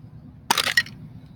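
A Charmander and Farfetch'd Pokémon collector tin cracks open in one sharp burst of crackling and snapping, close and fairly loud, over a quiet room.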